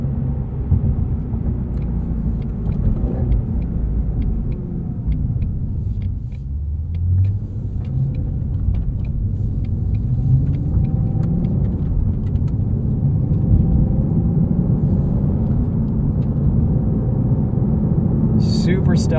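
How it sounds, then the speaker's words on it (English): A 2020 Ford Mustang Shelby GT350R's engine and exhaust drone steadily from inside the car while driving, a low, continuous rumble that swells slightly under load, with no talking. "Once you give it some revs and get into the throttle, it'll open up and you can definitely hear it"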